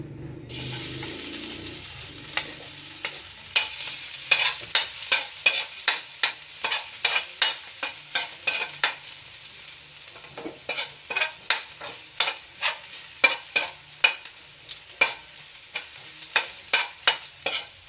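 Garlic frying in a hot pan for fried rice: a steady close sizzle broken by regular, rhythmic spatula strokes scraping and stirring the pan, with no voices.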